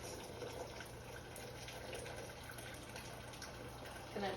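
Hot water drains in a low, steady trickle and gurgle from a home cleaning setup, faint and continuous with a slight surge near the end.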